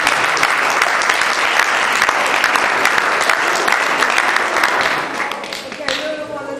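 Loud, sustained audience applause fills an evening community gathering, steady clapping from a large crowd that thins slightly toward the end.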